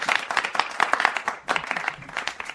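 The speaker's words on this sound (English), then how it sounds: "That smattering of recorded applause" Recorded applause plays on a live show, a sparse smattering of claps rising in uneven bursts for a couple of seconds, fairly close and unaccompanied by voices.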